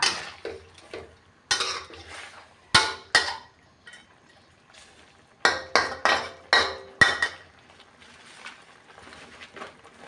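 Utensils scrape and clatter against a pan in repeated bursts of stir-frying catfish with chili and Thai eggplant, with a faint sizzle underneath and occasional louder metallic knocks.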